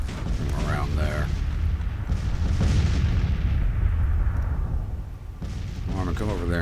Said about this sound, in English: I'll let my artillery play while these guys get into position